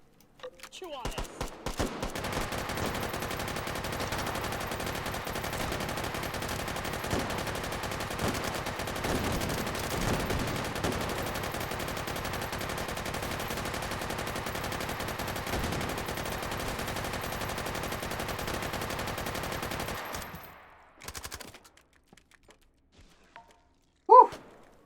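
An M60 machine gun fires in the VR shooter H3VR, one long, loud, sustained burst of rapid automatic fire lasting nearly twenty seconds before it abruptly stops, followed by a few faint clunks.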